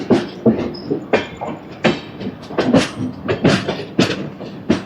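Godavari Express train 12728 rolling on rails out of Hyderabad, loud rhythmic clatter of wheels striking rail joints in regular paired beats, close and steady with metallic resonance.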